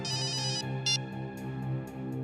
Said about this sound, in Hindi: सर, मेरी वाइफ का फोन है सर।